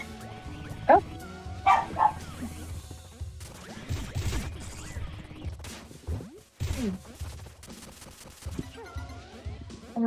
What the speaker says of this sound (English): neighbor's dogs again, aren't they?